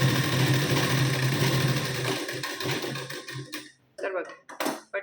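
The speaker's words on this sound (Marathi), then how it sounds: "आता यावर शिलाई देऊन घेऊ." A sewing machine runs steadily as it stitches a strip for a blouse, a close, continuous mechanical whir that stops partway through, followed by short bursts of handling and a voice speaking.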